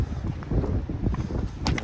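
Wind gusts buffet the microphone on the cold upper west slopes of Mera Peak in Nepal, above the treeline, a loud, rough, continuous rushing roar.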